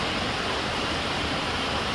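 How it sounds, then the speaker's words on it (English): Waterfall at Watkins Glen State Park in a wooded gorge, a dense, steady rush of falling water that fills the whole moment loud and close, with no voices. "You can hear the water."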